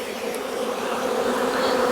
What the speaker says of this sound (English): Now we're going to shake some bees in these nuke boxes.